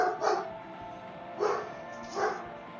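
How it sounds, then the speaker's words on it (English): Several dogs bark in three separate bursts, indoors and moderately close, with quiet gaps between them. "Sorry about my dogs."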